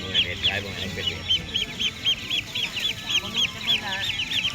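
Ducks for sale at a Thai-Lao market honk and quack in rapid, repeated bursts close by, over a low murmur of market noise.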